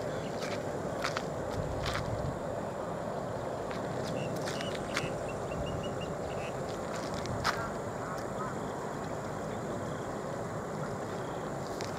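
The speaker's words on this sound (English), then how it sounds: "You can hear my footstep. Very noisy." Footsteps on a path beside fishing lakes in Semenyih, Malaysia, a faint steady shuffle of steps under constant outdoor background noise, with a few sharper clicks and a brief high chirp in between.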